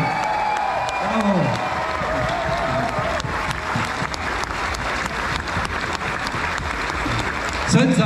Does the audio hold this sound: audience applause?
yes